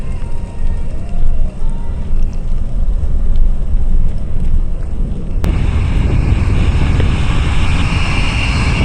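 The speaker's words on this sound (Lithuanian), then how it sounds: "Vėjas didžiulis." Strong wind buffets the microphone of a cyclist riding in Lithuania in a continuous heavy roar, with a brief sharp click midway and the gusts growing harsher afterward.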